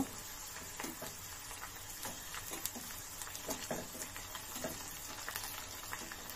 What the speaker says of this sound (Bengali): এবার গরম তেলের মধ్যে সমুচা বানানোর সেই শিটগুলোর কাটাচেরা অংশগুলো দিয়ে দিয়েছি।